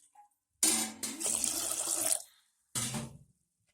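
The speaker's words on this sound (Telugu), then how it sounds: "కొన్ని నీళ్లు పోసుకొని" Water pours into a cooking vessel in two bursts, a longer splashing pour followed by a brief second one, close and clear with no talk.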